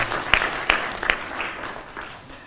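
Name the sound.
applause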